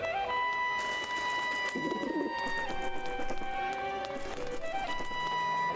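Undead pigeon-like birds in Grim Fandango Remastered give a brief, soft cooing call beneath steady game music and ambience.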